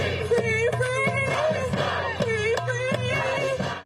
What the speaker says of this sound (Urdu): مظاہرین کی صہیونی فورسز کے خلاف شدید نعرے بازی۔